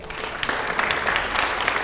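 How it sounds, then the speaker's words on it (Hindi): A burst of loud applause rises from a studio crowd at a televised Q&A with MP Ravi Kishan, dense clapping with a few sharper claps standing out. "अगला सवाल, लेकिन जोरदार तालियां हो पहले"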